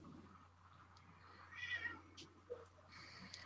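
A domestic cat meows faintly a couple of times over a steady low hum and soft room noise, with no talking.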